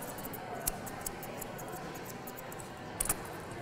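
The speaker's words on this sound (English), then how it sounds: "just a quick little cleanup with my scissors" Faint, crisp snips of scissors trimming a dog's fur, a single cut followed later by a quick double snip over a soft background hiss.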